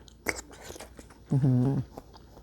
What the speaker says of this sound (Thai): อร่อยแบบนี้นะคะกินเยลลี่